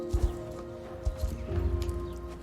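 Pony hooves clip-clop in the Mistfall video game, a few soft hollow knocks over a low humming backdrop, fairly quiet.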